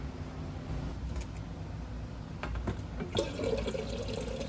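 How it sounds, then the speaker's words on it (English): Cold water runs into a quart-size jar of cold brew coffee, a soft, continuous hiss and splash that grows a little busier toward the end. "all I'm gonna do is top the rest of this jar off with cold water"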